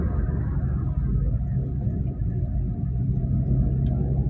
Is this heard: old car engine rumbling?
yes